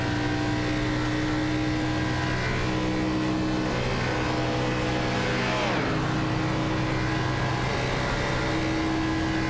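An Xfinity race car engine at Chicagoland in the iRacing video game holds a loud, steady high drone, with a quick pitch swoop near the middle as it shifts or passes.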